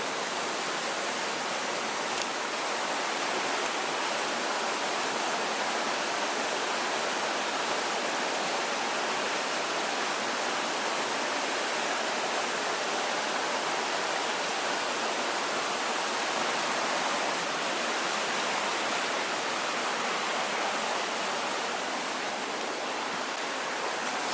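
A small stream, a little beck beside a campsite, flows continuously with a steady broadband rush of water, even and unbroken, moderately loud and close, with no voices.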